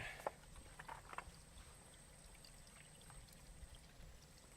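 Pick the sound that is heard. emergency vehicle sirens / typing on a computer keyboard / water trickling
water trickling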